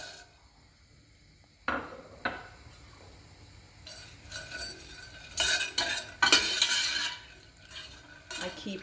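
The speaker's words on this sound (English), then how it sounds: "and I fry the nuts." Nuts fry in oil in a pot for a rice and chicken dish, with a spoon scraping and clinking against the pot in irregular strokes over a faint sizzle, close by, no talk.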